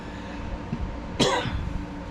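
One sharp, harsh cough from a person recovering after surgery bursts out close to the mic over a steady low background hum.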